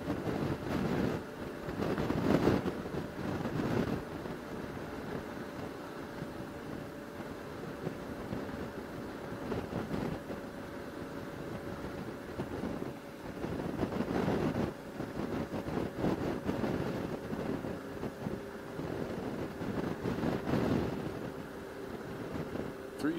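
Strong wind roars steadily across a motorcycle rider's microphone on the Trans-Labrador Highway, a constant rushing buffet with surging gusts and no voices.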